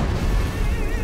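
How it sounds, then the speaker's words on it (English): A loud, rumbling explosion from the Super Mario 64 video game fills the whole second as a dense, sustained roar with no talking over it. "Let's end it with an explosion."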